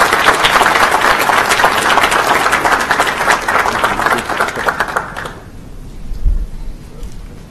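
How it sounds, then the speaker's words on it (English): Audience applause at a school board of education meeting, a loud dense crackle of clapping that holds for about five seconds and then cuts off, followed by quiet room noise. "One more round of applause for them"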